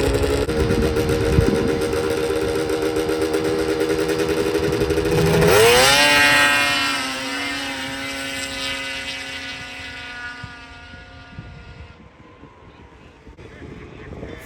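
Snowmobiles launch in a grudge race on a frozen lake, engines screaming loudly as they accelerate away, then the high whine fades into the distance with wind noise over the microphone.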